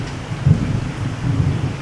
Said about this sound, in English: We got a lot of thunder and lightning going on.